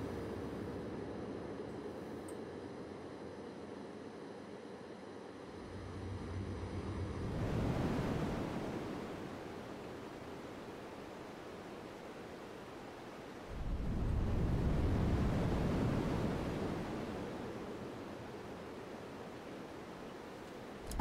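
Synthesized sea waves made as sound design for a sculpture, with bright reverb and delay; two slow, broad swells of rushing wash rise and fade over a low background hiss.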